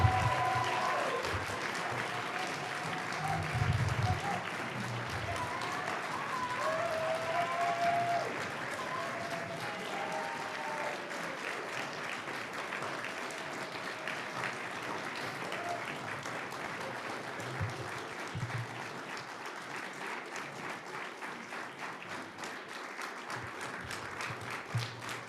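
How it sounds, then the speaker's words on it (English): An audience at a church youth group service applauds steadily for about twenty-five seconds, a dense, even wash of clapping that tapers slightly toward the end, with faint voices mixed underneath. "Please give a warm round of applause for Bruce Lachey, Lee Hill, and Kirsty Johnson Erickson"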